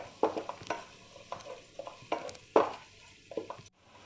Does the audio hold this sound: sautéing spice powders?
yes